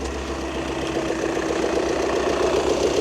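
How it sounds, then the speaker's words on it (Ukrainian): A used car's engine idles steadily just after starting, a continuous low mid-pitched hum with a faint rhythmic knock, close and even throughout with no talking. "Мотор працює ось так, досить гарно завівся."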